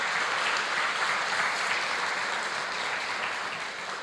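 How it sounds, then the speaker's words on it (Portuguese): A church congregation applauds in a steady, dense wash of clapping that holds at full strength throughout and eases slightly at the end, with no talk over it. "Aplauda Ele nessa noite"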